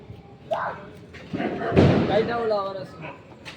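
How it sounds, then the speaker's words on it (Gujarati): A firecracker bursts with a loud, deep bang after a smaller pop, while people talk nearby before and after. "આટલા બધા આપણા ફટાકડા આ પ્રમાણે ફોડી નાખીને"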